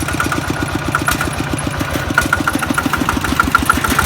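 A walking tractor's small engine chugs in a fast, even rhythm of sharp pulses, loud and close, running steadily without a break.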